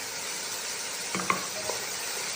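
Potato and carrots stirred into a pot of white chicken soup, a soft close scrape and clatter of the spoon for about a second over a steady background hiss.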